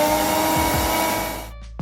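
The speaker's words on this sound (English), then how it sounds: "Next, move the vacuum cleaner to the dirty floor." A household vacuum cleaner motor running with a loud, steady whine and hum, then cutting off abruptly, followed by a brief low thump.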